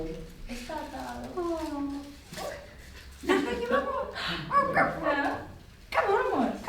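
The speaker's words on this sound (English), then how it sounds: "Oh! It's a dog." A dog tied up outdoors barks and whimpers in several short, uneven bursts, with yips and whines close by while people talk around it.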